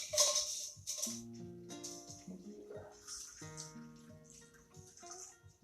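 Dry martini being strained, with liquid pouring and trickling softly into a glass for several seconds alongside faint ice clinks, quiet and close.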